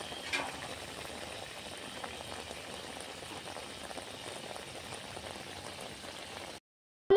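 Fish curry bubbling steadily in a pan, a continuous soft gurgling simmer that cuts off abruptly near the end.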